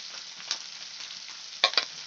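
Julienned capsicum, cabbage and beans frying over a high flame, giving a steady broadband sizzle with a few louder bursts, likely stirring, near the end. No one speaks.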